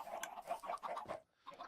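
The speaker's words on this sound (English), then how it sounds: "Oh, chickens." Chickens in the video game Minecraft cluck in quick, soft repeated bursts at a moderate distance, with a short pause before the clucking resumes, and no voices.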